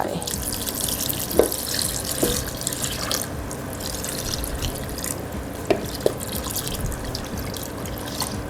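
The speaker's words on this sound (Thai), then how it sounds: "ใส่น้ำเปล่านะคะลงไปด้วย" Plain water poured into a pot on an unlit stove while making a Thai palm seed dessert, a continuous splashing trickle with a few sharper drips.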